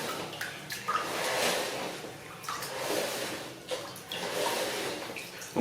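Aquarium sand is rinsed under water in several rinses until it runs clear, a close, uneven sloshing and pouring of water with splashy surges and brief pauses.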